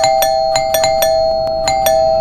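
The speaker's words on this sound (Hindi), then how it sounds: "कौन पागलों की तरह घंटी बजा रहा है?" A doorbell rings over and over in quick repeated chimes, loud and close, with a steady electronic tone running beneath, inside a home.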